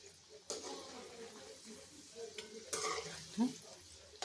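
Oil sizzles and bubbles softly over a medium flame around frying shankarpale dough, with occasional clinks and stirring scrapes close by.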